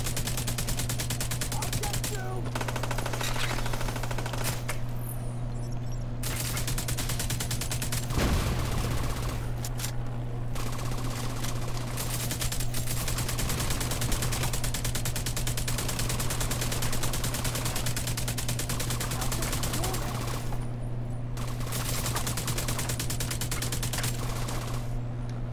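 Sustained gunfire from The Division 2 video game runs as a dense, continuous clatter of shots over a steady droning hum, with a few short pauses and no clear break in the firing.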